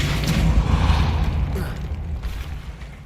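The Depulso spell in Hogwarts Legacy lands as a loud, close, low boom with a rushing whoosh that fades over a few seconds, with no speech.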